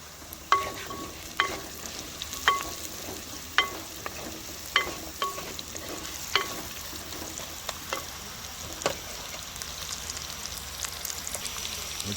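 Drumstick pieces (moringa pods) sizzle in hot oil with turmeric in a pan, a steady frying hiss broken by sharp, regular scrapes and clinks of a spoon stirring, close and moderately loud with no talking.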